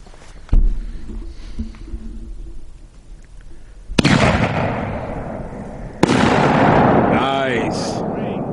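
A Dominator brand Mammoth Ring of Fire 500g fireworks cake fires outdoors, with a sharp launch thump, then loud booming bursts and crackling sizzle that build and linger, with brief voices nearby.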